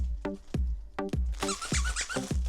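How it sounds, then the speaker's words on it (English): A squeaky dog toy squeaks in a quick repeated rhythm, about six sharp close squeaks, with a few soft background noises between them. "Oh, it squeaks too."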